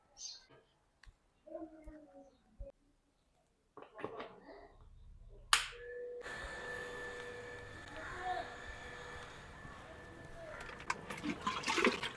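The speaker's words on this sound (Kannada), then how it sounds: "ಪಾಟ್ಗಳಿಗೆ ಸ್ವಲ್ಪ ನೀರು ಹಾಕ್ಬಿಟ್ರೆ ಗಿಡಗಳು ಒಣಗ್ತಾ ಇದಾವೆ" Water poured into potted plants at home: a sharp clatter, then steady splashing and trickling that continues to the end, after a stretch of sparse, quiet knocks.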